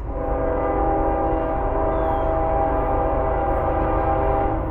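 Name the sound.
CSX 405 train passing with horn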